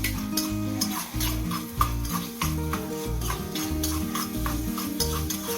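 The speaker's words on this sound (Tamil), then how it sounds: "1 டீஸ்பூன் நெய் ஊற்றி தேங்காயை வறுத்து கொட்டிடலாம்" Grated coconut roasting in a teaspoon of ghee for payasam, stirred with a spoon that scrapes the pan in repeated rhythmic strokes over a light sizzle, close and clear with a low hum underneath and no speech.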